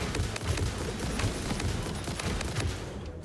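Dense, rapid gunfire in the video game Satisfactory, a continuous crackling barrage of overlapping shots with low thumps, loud and close, fading out at the very end.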